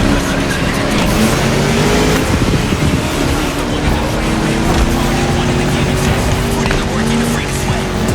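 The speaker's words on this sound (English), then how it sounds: "You're driving my #1 car, the star of my collection, the 1969 Mustang Boss 429" A 1969 Mustang Boss 429 drives at speed in a video game, its engine droning loud and steady with rising pitch, accompanied by rushing wind and faint tire noise.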